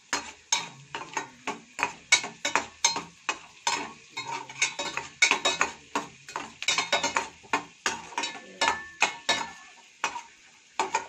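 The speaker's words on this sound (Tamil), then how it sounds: "நல்லா கோல்டன் கலர்ல நல்லா வறுத்து எடுத்துக்கலாம்" Flattened rice (aval) dry-roasting to golden in a pan, a steady run of sharp scraping and rattling stirs with a light sizzle beneath, close and busy with no pauses.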